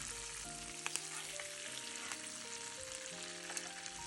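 A T-bone steak sizzles in a pan with butter, rosemary and thyme, a soft, even hiss heard quietly beneath steady background music.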